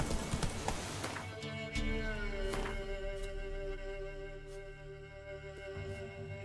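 Hooves of Roach, the horse from The Witcher 3, clop at a gallop that then slows, loud and close over a steady game music bed, with a brief whinny-like burst and faint background talk.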